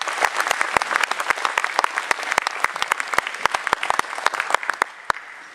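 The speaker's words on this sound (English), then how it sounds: "give them a big round of applause" An audience claps at a school band concert, a dense, steady round of applause with sharp individual claps popping out close by, lasting throughout.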